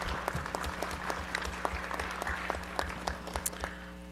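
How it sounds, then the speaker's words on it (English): At a board of education meeting, a room applauds the educators: scattered, moderately quiet clapping over a steady electrical hum, with distinct individual claps popping through the wash. "I'm going to clap."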